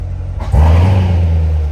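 A 2019 Chevrolet Corvette convertible's engine fires up and settles into a deep, loud, rumbling idle with a throaty NPP exhaust note, close and steady.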